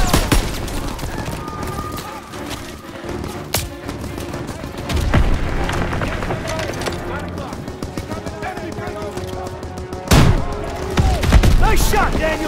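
Dense World War 2 battlefield gunfire from Call of Duty: World War 2: rapid rifle and machine-gun bursts crack loudly, with heavy booms and explosions over shouted voices and music.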